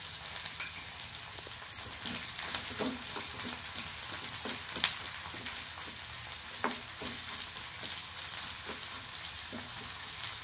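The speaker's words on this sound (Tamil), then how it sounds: "பச்சை மிளகாய் வதங்கிடுது." Finely chopped green chillies sauté in a pan with rock salt for a coconut dal curry, a soft, even sizzle crackling with light pops throughout, no talking.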